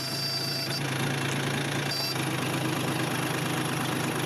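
A Sonalika 50 hp 4WD tractor engine runs at a steady idle, with a constant throbbing drone and no pauses, close and unbroken throughout.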